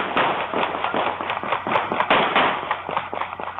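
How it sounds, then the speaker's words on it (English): Dozens of gunshots ring out in a residential neighborhood early on a Sunday morning, a dense, rapid barrage of loud cracks that keeps going without pause. "Families were jolted awake Sunday morning by the sound of dozens of gunshots."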